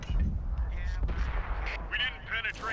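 Tank cannon fire in a World of Tanks–style battle, a few muffled booms and bursts in quick succession mixed with game noise and voices.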